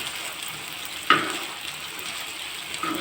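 A mutton tawa gosht mixture sizzles steadily in a hot pan while it is mixed. One sharp metallic clink of the spoon against the pan stands out in the middle, and softer scrapes come later.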